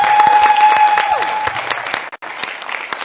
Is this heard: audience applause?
yes